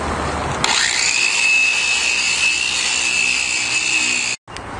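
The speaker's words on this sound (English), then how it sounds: "you're going to turn it up to about 5 or 6 and begin the actual polishing" Power polisher buffing a plastic car headlight with Meguiar's Ultimate Compound, running at a steady high whine with a sustained pitch, close and loud, until it cuts out briefly near the end.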